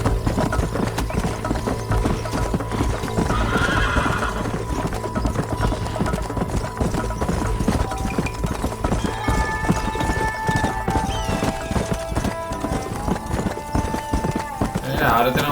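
Steady clip-clop of horse hooves in the Red Dead Redemption game carries on throughout, with a horse neighing over it and a voice talking at times.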